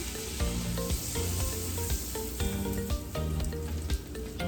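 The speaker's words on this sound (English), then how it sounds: "Just melting that butter down." Butter melts over reduced heat in a pan, giving a steady close sizzle with faint crackles, light stirring taps and a few clinks of utensil on cookware throughout.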